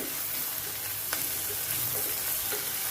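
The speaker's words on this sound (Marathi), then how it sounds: "आता हा मी थोडा कांदा अजून थोडा नरम होईपर्यंत परतून घेते" Onion sautés in a pan, a continuous close sizzle with soft stirring scrapes and occasional faint clicks, loud and unbroken, with no talking.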